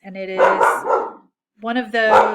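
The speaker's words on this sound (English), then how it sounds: "Sorry, that's my dog" A pet dog named Lacey barks at a critter outside, two bursts of loud, close, tonal barking separated by a brief pause, with a person talking indoors at the same moment.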